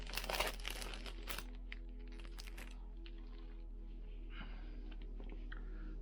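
Paper packaging on a DJI Action 2 camera box is cut and torn open, giving close, quiet bursts of crinkling and tearing. The handling noise comes in short clusters near the start, then settles into soft intermittent rustles against a low hum.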